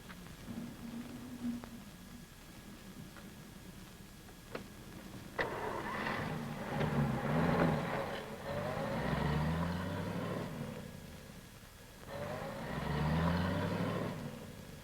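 Old cars start up and pull away in a Western setting: a sharp click, an engine catching, then engines revving and rising in pitch in two separate surges as they drive off.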